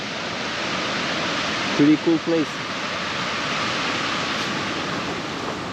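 Steady roar of fast-flowing Danube river water in Bratislava, Slovakia, continuous and close, with someone speaking briefly over it.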